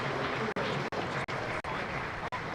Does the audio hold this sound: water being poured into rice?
no